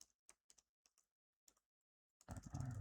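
Sparse, quick keystrokes on a computer keyboard tap out in short clusters close by, then a sudden loud burst of broadband noise takes over at the end.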